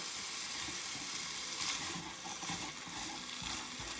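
Meat browns in a pan on the stove, giving a steady, close hiss of frying with light stirring.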